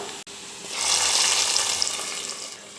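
Hot tempering of mustard seeds and shallots poured into cooked ponnanganni greens, giving a sudden rising hiss and steady crackling sizzle that holds for a couple of seconds, close and alone.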